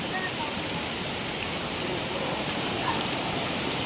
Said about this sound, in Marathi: पाऊस पडतोय ना थेंब थेंब